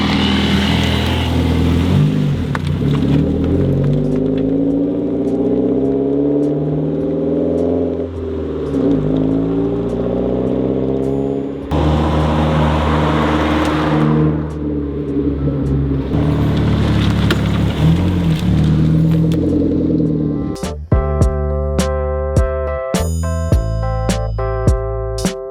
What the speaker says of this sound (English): The drive-by down and up and down the road.